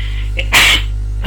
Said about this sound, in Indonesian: Sorry, bersin.